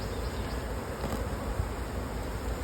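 Italian honey bees crowd an opened single brood chamber hive in an apiary yard, giving a thick, unbroken buzzing hum close by, steady throughout without any talk.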